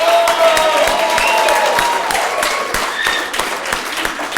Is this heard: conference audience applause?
yes